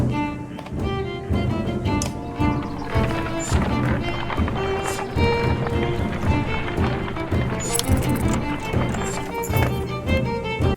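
Horses clip-clopping and whinnying in a fantasy war-camp setting from the game Banner Saga, mixed densely with steady musical tones and busy camp ambience throughout, with no clear speech.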